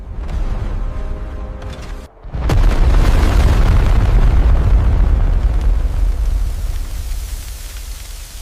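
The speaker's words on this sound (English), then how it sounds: "Ignition. The cable rises on a column of fire." Rocket lifting off from the launch pad: after a brief silence, ignition bursts into a sustained, loud, rumbling roar that stays broad and dense before slowly thinning.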